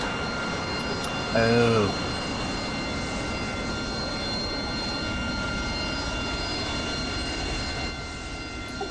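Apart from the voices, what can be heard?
F-5 jet engines starting up in flight simulator video game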